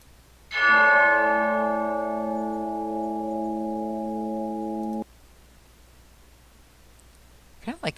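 A bell sound effect rings out as one loud, sustained tone with a bright, evenly layered ring. It holds steady for about four and a half seconds, then cuts off abruptly, followed by near silence and a few faint clicks.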